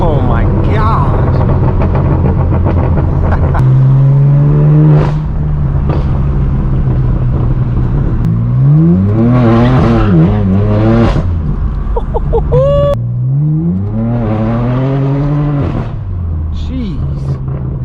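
A straight-piped BMW M4 F82 drives with a loud exhaust, its deep droning note rising and falling as it revs on the way to an illegal car meet, with a voice talking over it.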